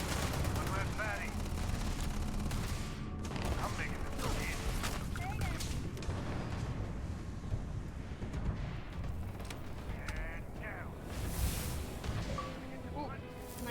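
Rapid rifle gunfire in a shooter video game, bursts of shots crackling steadily throughout under ongoing talk and game effects.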